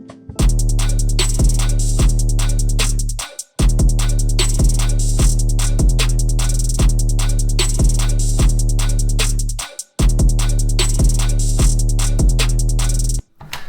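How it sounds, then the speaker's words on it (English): A trap drum loop at 150 BPM plays loud and steady, with booming 808 kick and bass hits, crisp snare and rapid hi-hat rolls, briefly cutting out twice before the pattern restarts. "I've made a trap loop at 150 beats per minute."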